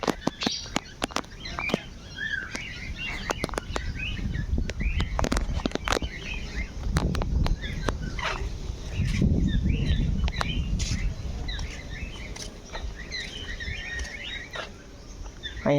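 Birds chirp and call repeatedly across the bird section of a zoo, small bright calls scattered throughout over a steady outdoor background with occasional clicks and rustles.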